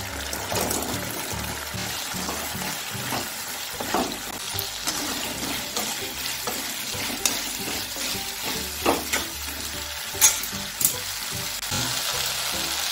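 Cabbage Manchurian balls crackle and sizzle in hot oil, a constant frying hiss with occasional louder pops and stirring clatter.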